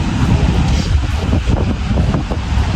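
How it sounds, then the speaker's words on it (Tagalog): Strong seaside wind buffets the microphone with a loud, rumbling, gusty roar throughout, no voices heard. "Lakas lang hangin, eh."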